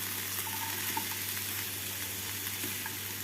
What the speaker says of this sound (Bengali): ভালো করে পেঁয়াজ টমেটোর সাথে ভেজে নিচ্ছি